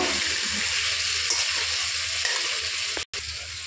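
Ginger, cumin and chilli paste going into a pan of frying potatoes, a loud steady sizzle with faint stirring scrapes and a brief gap near the end.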